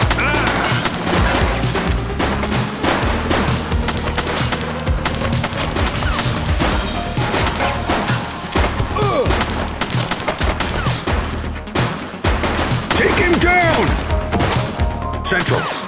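Rapid bursts of gunfire from the police video game The Precinct crackle and pop continuously over a busy mix of impacts and action effects, with voices talking now and then.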